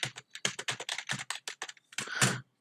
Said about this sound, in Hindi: लगता है मैंने कुछ मिस्टेक कर दिया टाइपिंग में